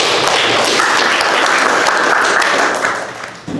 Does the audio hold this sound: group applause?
yes